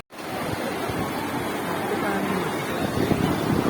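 Sea waves at Digha beach make a steady, loud surf wash with wind buffeting the microphone, a continuous roar that swells slightly toward the end.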